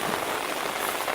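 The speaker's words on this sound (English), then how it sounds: "Maybe if the rain stops, we can" Rain falls steadily on a garden, a dense, even hiss of drops striking surfaces and leaves, close and continuous with no voices.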